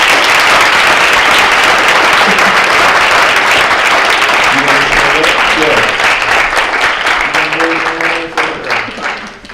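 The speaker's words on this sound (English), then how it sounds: "could we just give a round of applause for the work that Dr. Clayton has done in recent years" A lecture audience gives a long, loud round of applause for Dr. Clayton, sustained and full before thinning toward the end as a speaker's voice starts to come through.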